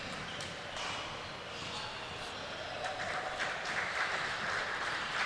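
Crowd applause fills a gym after a club basketball championship game, a steady wash of clapping and murmuring voices that swells slightly toward the end.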